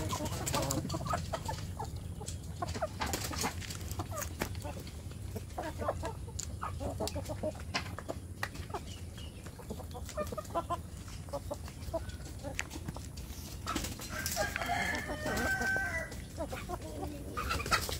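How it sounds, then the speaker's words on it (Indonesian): Free-range village chickens cluck steadily throughout, with a rooster crowing now and then over a busy, continuous farmyard background in the morning. "supaya ayam kampung saya ini jadi bersemangat ya untuk makan"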